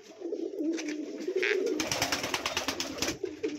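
Pigeons in a loft give low, rolling coos, fairly close, with a busier burst of cooing in the second half.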